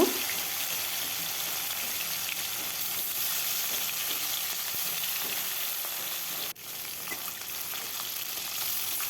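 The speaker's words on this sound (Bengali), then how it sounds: "কড়াই গরম হয়ে গেছে সরিষার তেল দিয়ে দিলাম তেলটা গরম হলে মাছগুলো আমি ভেজে নেব" Fish frying in mustard oil in a hot wok makes a steady, even hiss and sizzle throughout, broken only by one brief dip in loudness.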